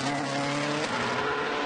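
A rally car on a Fastnet Rally stage in County Cork overshoots a corner, its engine holding a loud, tonal drone that shifts slightly in pitch partway through this short burst.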